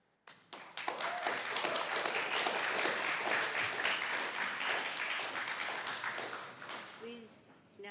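A crowd at a Seattle city council meeting breaks into loud, sustained applause that starts suddenly and slowly tapers off over several seconds, with scattered voices mixed in.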